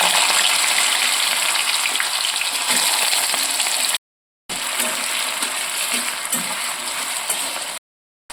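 Potatoes fry in mustard oil with panch phoron and bay leaf for a Bengali mochar ghonto, producing a loud, dense, continuous sizzle with faint clattering, cut by two brief silent gaps.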